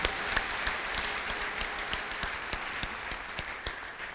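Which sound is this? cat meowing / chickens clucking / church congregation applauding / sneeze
church congregation applauding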